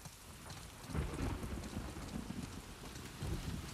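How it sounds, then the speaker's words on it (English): Rain and thunder from The Last of Us Part II: a dense steady downpour with deep rolling thunder swelling underneath, continuous and fairly loud, with no speech. "Need a longer delay for the uh, thunder"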